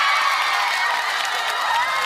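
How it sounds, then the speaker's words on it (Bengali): Crowd applause and cheering, a steady dense wash of clapping and whoops that fills the whole short stretch at close, even loudness with no pause. "তালিয়া!"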